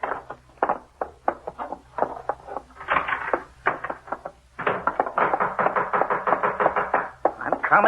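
Knocking on a door in an old radio drama: repeated sharp raps in bursts, loud and close, with pauses between rounds, then a long quick flurry of insistent knocks.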